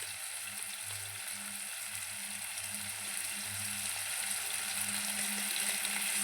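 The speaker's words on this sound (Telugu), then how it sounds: "అల్లం వెల్లుల్లి పేస్ట్ వేసుకుందామండి." Ginger garlic paste fries in hot oil in a pan for a meat curry, a steady close sizzle that grows slightly louder toward the end, no talking.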